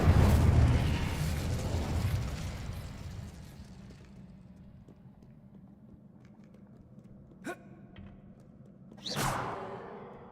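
A Confringo fire spell in Hogwarts Legacy bursts with a loud explosive blast that fades away, followed later by a sharp whooshing flare and a brief rumble.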